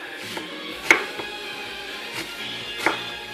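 A knife slicing slits into chicken pieces for a korma on a cutting board, a few sparse, faint taps and cuts spread unevenly over a quiet kitchen background.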